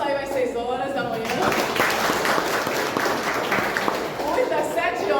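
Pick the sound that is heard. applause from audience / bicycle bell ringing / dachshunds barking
applause from audience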